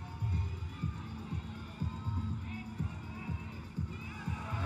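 An Austrian crowd at the Innsbruck 2018 IFSC Climbing World Championships bouldering semi-finals cheers and claps in a steady, rhythmic swell for a climber, heard at a distance beneath a commentator's voice.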